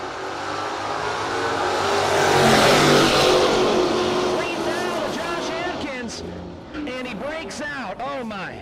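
A Chevrolet Malibu and a Camaro launching at a no-box drag race, a roaring engine swell that peaks and fades down the strip, under a track announcer's continuous commentary.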